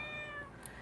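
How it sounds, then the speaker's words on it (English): Freckles the cat gives a single drawn-out meow indoors near a window, a faint, thin tonal cry lasting under a second with no talk over it. "You can hear her meowing"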